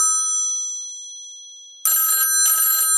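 A vintage Ansafone answering machine's telephone bell rings in two sharp, loud bursts after a fading tone, close by and with no one talking.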